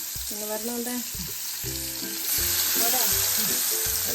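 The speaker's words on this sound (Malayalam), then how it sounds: "ഇന്ന് മത്തി പൊരിച്ചതാണ്" Sardines sizzling in hot oil, a steady close crackle that grows louder partway through, with no talking.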